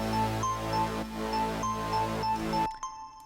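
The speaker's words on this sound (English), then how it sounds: "all of those synths all together sound like this." Several layered synths play together in a music production, giving a wide blended pad with bell-like tones and rhythmic pulses that stop abruptly, leaving faint ringing notes.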